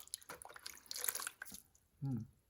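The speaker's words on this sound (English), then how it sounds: "I need a little more water here for my goo." Water is added to clay slip while throwing pottery, giving a short run of wet splashing and dripping close by, followed by a brief voice at the end.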